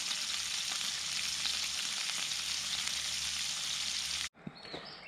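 Potatoes fry in hot oil over an outdoor off-grid cookfire, giving a loud, steady crackling sizzle that runs unbroken for about four seconds, then cuts off abruptly and leaves quieter scattered pops.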